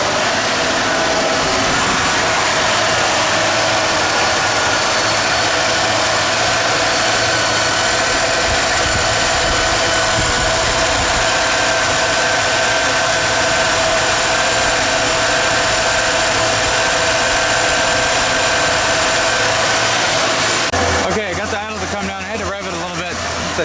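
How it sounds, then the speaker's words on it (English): The engine of a junkyard Ford Bullnose truck, just converted from EFI to a carburetor, runs steady and loud at idle for about twenty seconds and then cuts to a rougher, broken sound near the end. "Let's fire it up and see where that timing's at."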